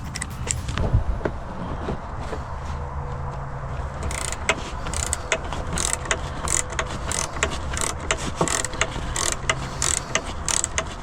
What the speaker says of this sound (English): So I just took the bolt out